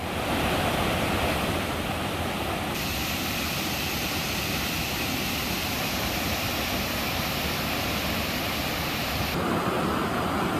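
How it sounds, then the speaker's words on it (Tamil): Kumbakkarai waterfall in flood after heavy rain, water gushing in a loud, steady, unbroken roar that fills the whole stretch, with no voices over it. "அருவியில் வெள்ளம் கரை புரண்டு ஓடுவதால்"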